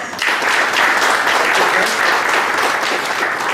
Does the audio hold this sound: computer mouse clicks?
no